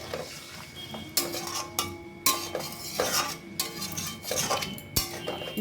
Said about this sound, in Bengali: এখন জল দেব। একটু নেড়ে চেড়ে দেবো।